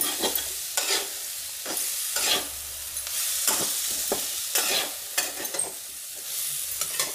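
Potatoes cook in a pan over a medium flame, a steady sizzle broken by repeated scraping stirs at an irregular rhythm, close and fairly loud with no talking.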